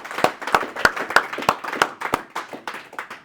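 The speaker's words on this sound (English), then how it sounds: "giving this brother another round of applause" Handclaps during a church Sabbath service in Oakland: sparse, distinct claps from only a few hands, landing in a loose, uneven rhythm, close and fairly crisp.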